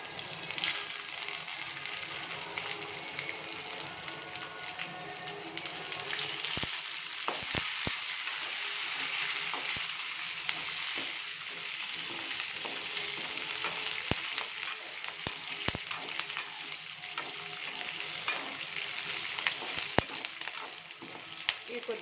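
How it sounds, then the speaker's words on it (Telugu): Curry leaves, green chilies and onion fry in hot oil for poha upma, a steady close sizzle that runs throughout, with brief clicks of stirring scattered across it. "బాగా ఫ్రై అయిపోయినాయి"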